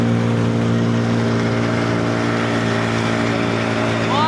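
Outboard engine of a rubber boat drones loudly and steadily, straining under a heavy load, with a rising whine near the end.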